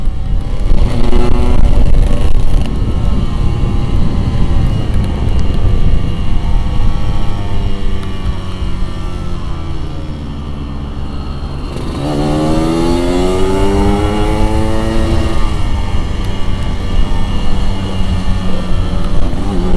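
Yamaha RX King two-stroke motorcycle at full throttle on a winding road, loud and close with rising and falling engine pitch through repeated gear changes and a second hard acceleration near the end.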